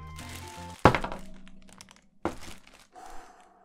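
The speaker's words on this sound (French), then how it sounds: "c'est juste le socle qui est tombé" A Dragon Ball Goku figurine's base drops during unboxing, landing with a sharp thunk followed by a second smaller knock, with faint crinkling of cardboard packaging around it.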